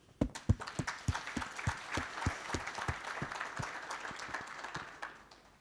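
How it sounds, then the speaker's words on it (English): Conference audience at a Magento event breaks into applause, opening with a few sharp, distinct claps that quickly swell into a fuller, blended crowd clapping before tapering slightly. "a big applause."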